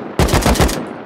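A short burst of automatic gunfire in the survival video game Rust during a base raid, several rapid close shots in quick succession, loud and alone.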